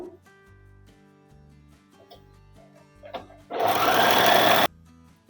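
Sewing machine stitching a fall onto the edge of a saree with matching thread, a loud dense burst of rapid needle clatter lasting about a second after quiet faint clicks.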